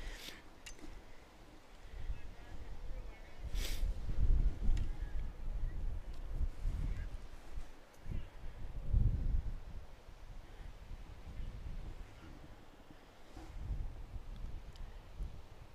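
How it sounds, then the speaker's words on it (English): Gusts of wind buffet the microphone in uneven, rumbling bursts at a varsity baseball game, swelling and fading over a quiet outdoor background. "the wind is really, look, it's pushing my camera even."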